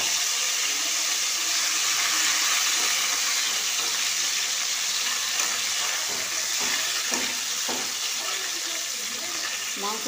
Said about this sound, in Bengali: মাংসটা আমি ছোটো ছোটো করে কেটে নিয়েছিলাম, কিমার মতো। সেটা আমি তেলে দিয়ে দিলাম।